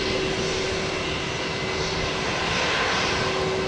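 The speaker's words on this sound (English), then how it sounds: "FedEx 692 heavy, runway 1 right, let's take off, wind 35 degrees" A heavy FedEx jet airliner takes off from the runway, its engines producing a loud, close, unbroken roar that holds steady throughout.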